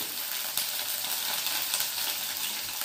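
Small tomatoes and green chillies sizzle and spatter in very hot oil on a low gas flame, a steady crackling hiss with occasional sharper pops, close and constant with no voices.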